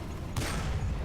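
A single short burst of French tank autocannon fire in War Thunder, a sharp crack with rumble trailing after it, heard close and fairly loud.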